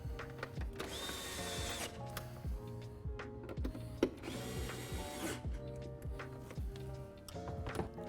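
A power drill tightens a fastener on a louvered engine panel of a C8 Corvette Coupe, with repeated short whirring bursts that start and stop in a steady rhythm, fairly close but moderately quiet.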